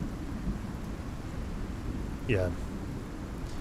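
A thunderstorm in the survival game Icarus rumbles loudly and steadily, with a dense wash of rain and thunder heard from inside a building with large windows, while a voice says a brief word.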